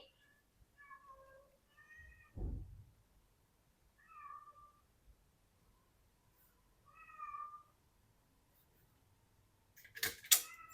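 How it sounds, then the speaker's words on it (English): Cats and dogs squabbling indoors, with a cat giving several distinct meows spaced across the stretch, plus a thump and a sharp clatter near the end; fairly quiet and close. "Sorry, my cats and dogs are fighting."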